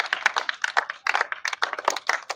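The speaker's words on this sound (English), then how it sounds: "so clapping for him." A small class claps for a student in an English-speaking lesson, giving a brief burst of close, quick, uneven hand claps with no talk over it.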